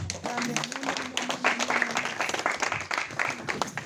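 A church congregation applauding together, a dense burst of clapping heard under a preacher's voice speaking over it.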